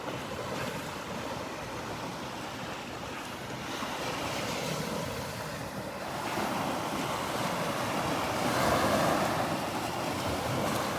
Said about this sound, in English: We've seen some pretty big waves rolling in today.